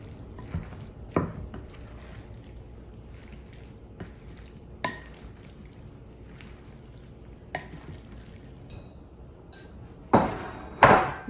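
Eggs, mixed veggies, leftover burger and salsa being stirred together in a pan for breakfast burritos: soft scattered scrapes and taps of a utensil at irregular intervals, with a louder clattering burst near the end, no talk.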